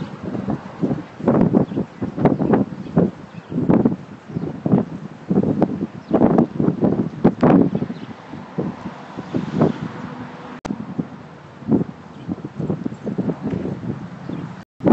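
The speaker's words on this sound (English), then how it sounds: "I'm sure the audio is probably picking up the wind" Steady wind buffets an outdoor microphone at a solar farm, a continuous broadband rush with gusty swells and rustling, loud and close throughout with no voice over it.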